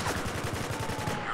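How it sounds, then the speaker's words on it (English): Rapid bursts of automatic gunfire in the video game Spec Ops The Line, a steady rattling run of shots that fills the whole moment, loud and continuous with no talk over it. "Who's shooting?"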